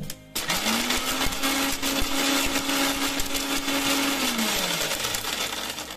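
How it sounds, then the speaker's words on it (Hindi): A mixer grinder runs steadily, finely grinding dried shatavari root for a cow and buffalo feed preparation; a loud, continuous whirring motor drone starts abruptly, holds for about four seconds, then winds down, with no talking. "चाहे तो आप इसे कूट सकते हैं या तो जो है मिक्सर ग्राइंडर में इसे बारीक पीस सकते हैं"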